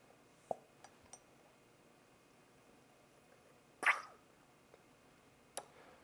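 A few small drips and plops of liquid fall from a pipette into a glass beaker during an aqueous solution dilution, with one louder splash near the middle and faint clinks of glassware in a quiet room.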